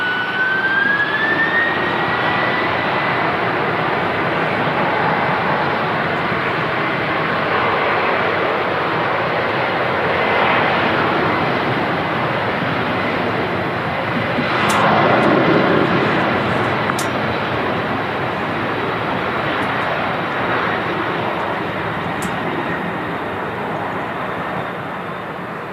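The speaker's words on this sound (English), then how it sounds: "Dreamliner just touching down as well as the TUI rotates off" A TUI airliner taking off at Manchester Airport, a loud sustained jet engine roar that swells and holds steady across the whole span without a break.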